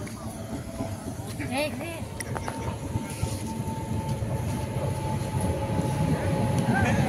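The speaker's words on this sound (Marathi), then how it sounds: "ट्रेन आली बहुतेक" A passenger train pulls into a railway station on a night journey from Chiplun toward Mumbai, its steady rumble mixed with squealing wheels and a busy platform crowd, while people talk nearby.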